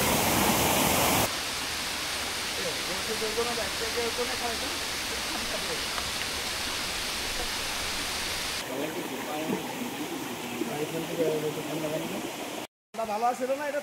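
Khaiyachora waterfall at Mirsarai pours with a steady, dense rushing roar that fills the whole stretch, its tone shifting slightly partway through, with a brief dropout near the end.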